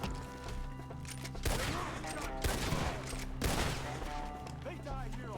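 Gunshots ring out in Red Dead Redemption 2, a few loud cracks spaced apart over steady game music and ambience, with a voice talking in between.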